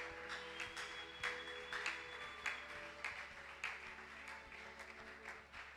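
A church congregation applauding during a worship service, a steady, fairly faint patter of many hands with occasional louder claps, continuing without pause throughout.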